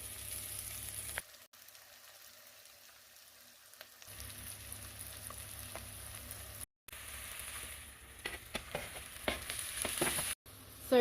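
Garlic, onions, celery and carrots sizzle over low heat in a pan, a steady soft crackle with occasional stirring scrapes and short breaks, growing a little busier toward the end.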